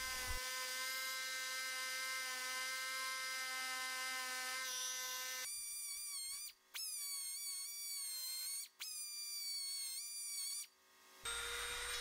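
A steady, high, whining power-tool tone with strong harmonics comes from a rough cut along a scored line in a juniper branch. The pitch shifts midway, with a few brief dropouts before the whine resumes, loud and close.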